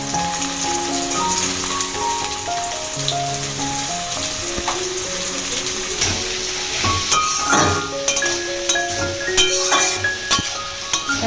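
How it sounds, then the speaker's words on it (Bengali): Chopped onions crackle and sizzle steadily in hot mustard oil for a chicken korma, a close, continuous frying hiss with a melodic backing tone running beneath it. "তেল গরম হয়ে গেছে এবার পেঁয়াজগুলো ছেড়ে দেবো এটা সর্ষের তেলেই রান্না করব"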